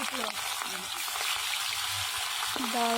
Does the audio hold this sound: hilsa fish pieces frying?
yes